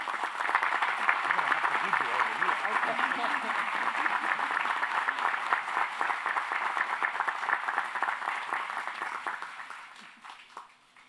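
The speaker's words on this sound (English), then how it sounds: "please join me, ladies and gentlemen, in another round of applause" An audience at a university commencement ceremony claps in sustained, dense applause that holds steady for about ten seconds, then fades away toward the end.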